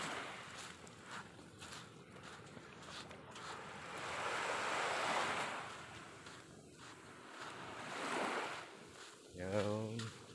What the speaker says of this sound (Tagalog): kita nyo yung alon